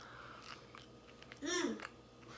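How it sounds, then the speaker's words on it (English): Someone quietly chews a bite of store-bought egg whites during a breakfast taste test, soft close mouth sounds with a brief voiced hum partway through. "I also wanted to try a taste of the egg whites for a little taste test"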